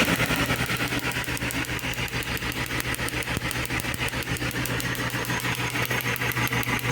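A car engine runs steadily at idle in a diagnostics workshop, with a test lead clipped to the third cylinder; a rapid, even pulsing rattle continues close and loud throughout, with no talking.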